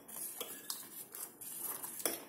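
Metal spoon clinking against a pot or bowl while custard mix is stirred into milk, giving light, irregular taps and scrapes that are close but faint, with no talking.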